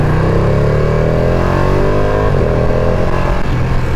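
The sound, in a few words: Ducati Panigale V2 motorcycle Super Quadro engine accelerating on test ride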